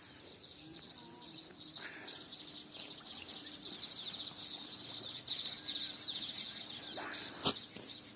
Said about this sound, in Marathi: पक्ष्यांचा आवाज तुम्हाला ऐकण्यासाठी आलेलो आहे